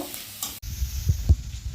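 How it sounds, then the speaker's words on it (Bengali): Onion frying in a pan, a soft sizzle with a few low stirring knocks and scrapes partway through. "পেঁয়াজটাকে আমি লাল করে ভেজে নিব, একদম পুরোপুরি লাল করব না, যাতে কাঁচা গন্ধটা চলে যায়।"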